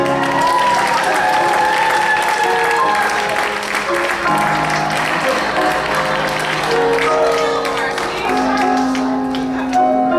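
An audience at the Carver Theater applauds the winner and players of a Mafia game, loud sustained clapping with crowd noise and some cheering, while a voice speaks over it throughout.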